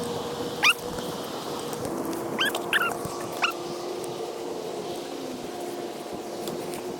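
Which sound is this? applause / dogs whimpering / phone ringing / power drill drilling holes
dogs whimpering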